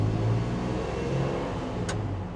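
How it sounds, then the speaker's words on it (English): A 1970 Ford F100 short bed pickup with its old straight-six engine cruising along, a steady, loud low engine drone that holds even throughout, alone with no talk. "it certainly has no trouble getting up and cruising with the old straight six"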